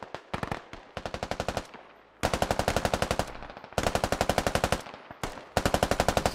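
Automatic weapon fire in a military video game battle: repeated long bursts of rapid gunshots, loud and close, separated by short pauses with a few single shots between bursts.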